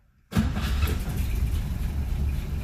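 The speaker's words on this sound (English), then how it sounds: "if I turn the key, start the car" An old car with its choke on starts up with the ignition key after a brief silence, its engine catching abruptly and then running on in a loud, slightly rough, steady idle.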